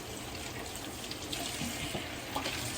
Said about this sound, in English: So just gonna rinse that off real quick.